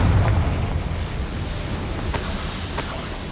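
Confringo blasting spell going off in the Hogwarts Legacy video game, a muffled booming burst at the start that fades into a rumbling tail with small crackles afterward.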